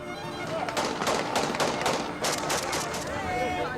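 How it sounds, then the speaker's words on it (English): Blasts at an Iraqi munitions dump: a rapid run of loud, crackling bursts and pops goes off back to back, close and dense throughout. "6 Iraqis died in this explosion."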